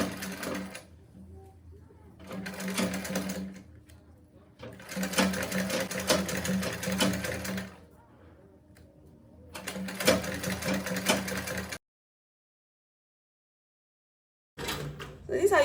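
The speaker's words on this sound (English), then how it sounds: "So this is how you continue sewing until you get to the edge here." A sewing machine runs in bursts, stitching an Ankara fabric bag, with quiet pauses between the runs and a moment of full silence near the end.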